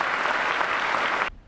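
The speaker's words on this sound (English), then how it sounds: "Let's give them another round of applause." Audience applause at an enlistee ceremony, a steady burst of clapping from a crowd that cuts off abruptly near the end.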